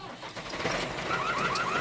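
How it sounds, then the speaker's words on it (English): A tractor engine runs at a fairly low level, a continuous rumble that builds slightly over its short span, with faint chirping tones above it. "Tractor. Tractor."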